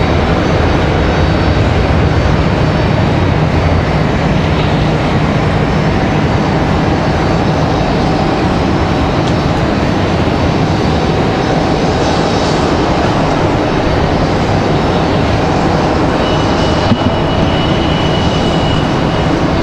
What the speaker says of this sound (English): Southwest from Orlando already touching down just behind us